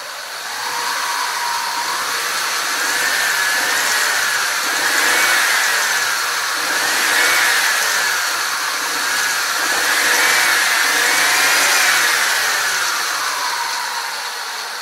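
Engine of a 1996 Ford Mustang running at its first start of the season, warmed up: a steady loud drone with gentle rises and falls in pitch, as if lightly revved, continuous throughout.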